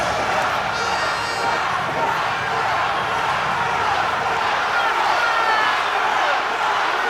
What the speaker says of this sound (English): Crowd is chanting frog.